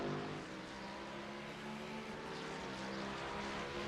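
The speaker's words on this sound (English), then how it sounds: "these cars sound absolutely awesome when you're sitting here listening to these cars on the sim." GT3 race car engines at Watkins Glen in a racing simulator game, a faint continuous engine drone with layered tones from several cars.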